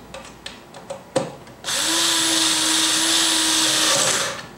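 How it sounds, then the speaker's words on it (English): An electric screwdriver loosening screws on an Alvin swing-arm lamp: a few light clicks and handling knocks, then one steady whirring motor run of about two and a half seconds, close and loud, ending abruptly. "then you can use the electric screwdriver if you have one"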